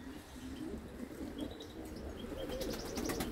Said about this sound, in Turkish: kuşlarımız görüyorsunuz hakikaten aktifler. yoğunlar.